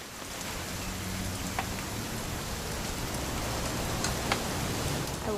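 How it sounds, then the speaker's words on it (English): Steady, dense rain pouring down in the adventure game What Remains of Edith Finch, a continuous loud wash of drops with no pauses. "It's gonna rain the whole weekend, isn't it?"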